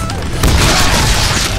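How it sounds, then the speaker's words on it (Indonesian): Booming explosion in the Deadpool video game, a loud, dense blast that swells after a brief build and rumbles through the rest of the moment, with no speech over it. "astaga itu apaan meledak"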